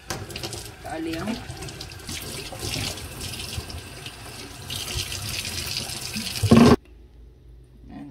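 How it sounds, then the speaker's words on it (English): Water runs steadily from a tap for several seconds, a broad rushing hiss that briefly gets louder and then cuts off abruptly, leaving a quiet room. "and then they want us to wash it with hot water"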